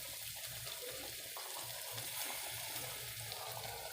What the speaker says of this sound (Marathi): हे पाणी गरम झालेलं आहे टाकून घेऊया